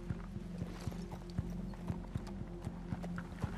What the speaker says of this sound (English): Even the horses are getting impatient.